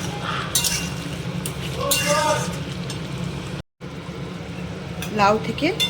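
A metal spoon stirs cumin, coriander and chilli powder through bottle gourd in a pan, making repeated clinks and scrapes against the metal while someone speaks throughout.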